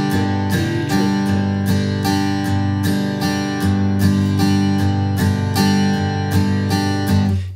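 Guitar strummed in a looped triplet shuffle rhythm, with steady repeated chord strokes in an even swung pulse, loud and close and alone.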